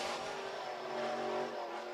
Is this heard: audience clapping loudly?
no